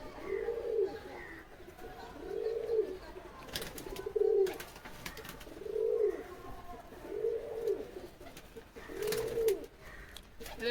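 Madras pigeons coo in a slow, regular series of soft, rounded calls about every one and a half seconds, close and moderately loud, with faint background clatter between them.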